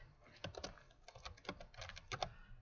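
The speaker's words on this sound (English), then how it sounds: "I can manually type an email address" Quiet, close clicks of a computer keyboard as an email address is typed, coming in short irregular bursts of keystrokes with brief pauses between them.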